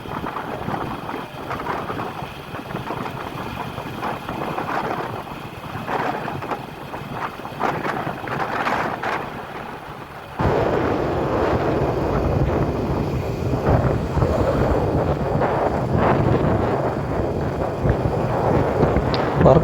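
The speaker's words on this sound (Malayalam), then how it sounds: "നല്ല കാറ്റാണ്" Strong wind buffets the microphone while riding a motorbike along the newly completed Thalassery–Mahe bypass, a steady loud rushing roar that grows heavier about halfway through, with no talk heard.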